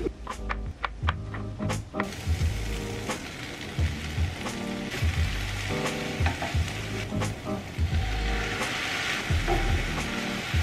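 Mushrooms, onions and garlic fry golden in a pan, a dense crackling sizzle close up with repeated stirring knocks and scrapes throughout, no voices.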